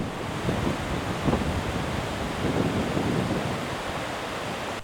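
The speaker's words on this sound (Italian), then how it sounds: "A Oliero paesaggio lunare, la furia dell'acqua comincia a farsi sentire." Rushing floodwater from swollen streams at Oliero, a steady broadband roar of turbulent water with gusty surges, loud and continuous throughout, no voices.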